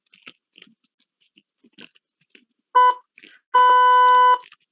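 Two buzzy electronic sawtooth-wave tones blare from a small speaker, a short burst then a longer one, after faint clicks and handling noises.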